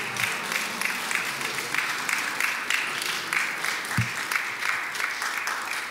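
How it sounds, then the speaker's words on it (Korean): An audience at a Korean national studies lecture claps steadily in a dense, continuous round of applause lasting several seconds, with one low thump partway through and no clear speech. "깨달으셨군요 하고 박수를 좀 쳐주십시오."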